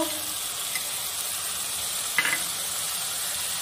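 Cumin, turmeric and chilli powders frying with fali fish, pumpkin shoots and potato in a pan, a soft continuous hiss with one brief stirring scrape, close and quiet, no talking.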